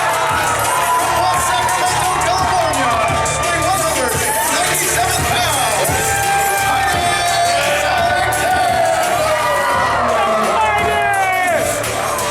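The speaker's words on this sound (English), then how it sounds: "Works this crowd into a frenzy." A wrestling crowd at a live independent show roars in a frenzy, cheering, whooping and shouting without letup, loud and dense throughout the stretch.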